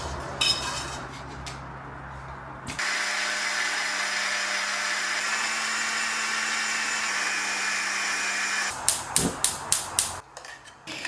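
A mixer grinder whirs steadily as it grinds pineapple, brown sugar and grated coconut, running as a continuous loud drone for about six seconds. Clattering and knocking from kitchen handling come before and after.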